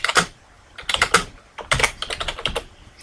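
Typing a table name in Microsoft Access on a computer keyboard: quick, close clusters of clicking keystrokes in three or four short bursts separated by brief pauses.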